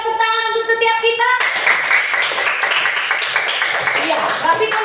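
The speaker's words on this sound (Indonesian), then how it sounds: "Sekali lagi tepuk tangan untuk setiap kita" A classroom of children claps together, a dense burst of rapid hand claps that follows a short stretch of singing voices and carries on steadily to the end.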